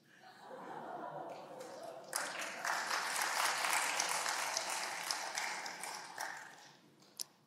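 Church congregation clapping in steady, dense applause for several seconds, fairly close and full, with a few scattered sharper claps and light murmuring before it tapers off near the end.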